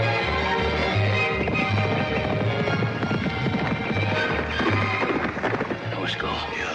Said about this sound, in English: She and Joe's horse racing.